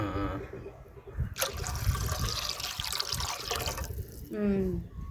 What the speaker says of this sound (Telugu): ఒక గిన్నె నీళ్ళు వేద్దాము